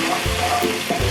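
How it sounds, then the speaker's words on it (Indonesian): Chili sauce sautéing in a pan while being stirred, a steady close sizzle with soft scraping strokes of the stirring utensil, for a fiery wings dish; no talking. "nanti langsung tumis aja sambal-sambalnya"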